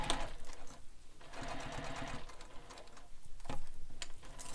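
A sewing machine runs a basting stitch through fabric layers for a Manhattan Bag, a steady close whirring with a brief pause near the start before it carries on.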